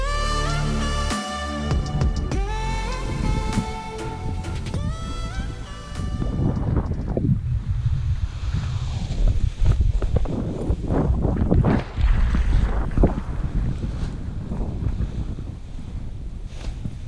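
Wind blows hard about 100 meters below a mountain peak on Reunion Island, a loud, continuous roar buffeting the microphone that follows a brief tonal opening and keeps going steadily to the end.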